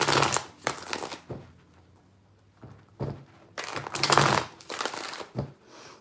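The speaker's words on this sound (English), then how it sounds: "let me give it a couple more shuffles" Tarot cards being shuffled by hand, close and crisp, in several short bursts separated by brief quiet pauses.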